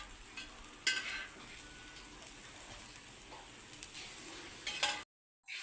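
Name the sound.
alasanda dosa batter and oil sizzling on pan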